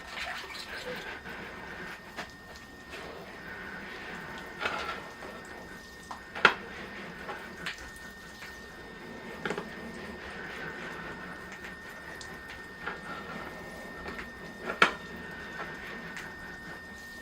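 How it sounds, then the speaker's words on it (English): Water pours and sprays over a Powderpuff bonsai tree, a steady soft rushing wash with occasional drips and small clinks, moderately close and unbroken throughout. "Okay, I'll rinse the tree off now."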